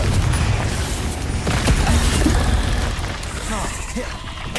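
Explosive spell blasts from a Harry Potter video game, with booming bursts and crackling pops layered over busy in-game combat noise and a talking voice throughout.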